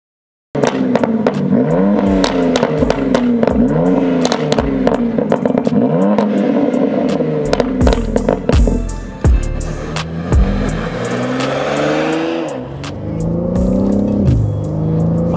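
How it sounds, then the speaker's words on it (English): A tuned 620 hp BMW G80 M3 revving and pulling hard through gears, loud rising engine sweeps with crackles at each shift, heard close for about fifteen seconds before easing off, no talk. "that sounds nice, doesn't it? Straight away. It's a nice grunt, isn't it?"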